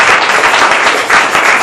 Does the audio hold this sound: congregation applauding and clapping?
yes